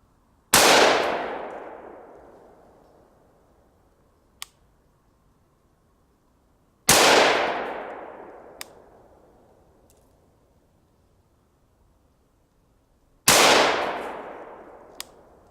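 A Colt M4 rifle fires three single shots from a true prone position, each a sharp, loud crack with a long decaying echo, spaced roughly six seconds apart, with a faint metallic click after each.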